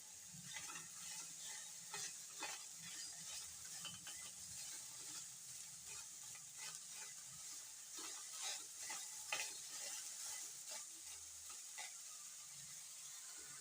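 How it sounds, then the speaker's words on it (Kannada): Bitter gourd frying in oil in a kadai over fairly high heat, a steady sizzling hiss with repeated scraping, clattering stirring strokes from a spoon against the pan; close and continuous, no talking. "ನೋಡ್ರಿ ಎಣ್ಣೆ ಹಾಕಿ ಈ ಥರ ಕೈ ಆಡ್ಕೊಂತ ಹುರಿಬೇಕ್ರಿ."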